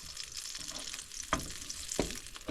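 Veggie burgers frying in oil in a pan give a steady close sizzle, with a few sharper crackles and pops rising out of the hiss.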